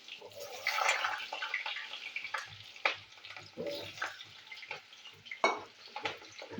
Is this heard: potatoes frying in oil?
yes